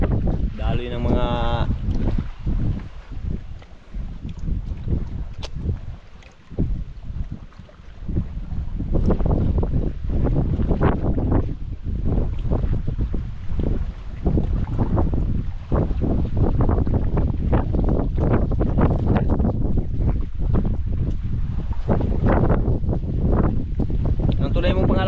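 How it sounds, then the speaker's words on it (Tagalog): Strong wind buffets a fishing boat at sea, a loud continuous rush and roar throughout with water noise, while people talk over it. "Lakas ng hangin."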